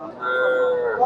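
A calf moos once at a cattle market, a single close, sustained low call lasting about a second.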